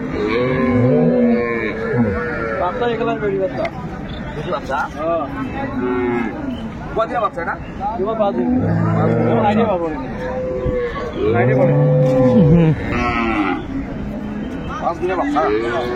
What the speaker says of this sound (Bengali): এখানে একটা সুন্দর গাভী বাছুর